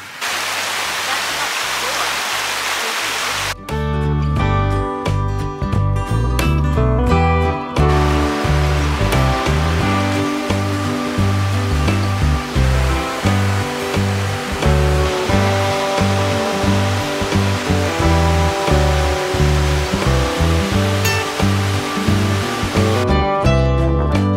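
River rapids in the New River Gorge rush as a steady, loud wash of water for a few seconds, then music comes in and covers it for the rest of the clip.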